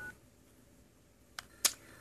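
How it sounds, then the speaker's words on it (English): Keypad tones from a Nokia 3110 mobile phone dialing a number: two short beeps, the second louder, against a faint hiss. "let's try dialing a number"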